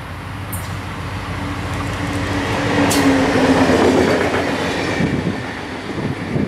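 An EMD GP40 diesel locomotive leading a freight train rumbles steadily past close by, its heavy diesel drone and rolling wheel noise building to a peak midway, with brief squeals of steel.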